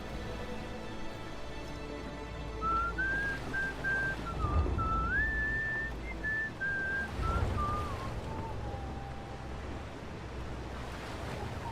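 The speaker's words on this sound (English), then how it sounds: "Sorry, I whistle when I'm nervous." A game character in The Caribou Trail, set in 1915 Turkey, whistles a clear, wavering melody alone for several seconds over a steady bed of surf and wind ambience.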